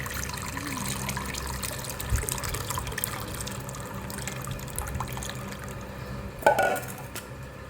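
Tamarind soaked in water being strained, with a steady wet trickle and splashing of liquid running through close by, a brief louder splash near the end, no talking.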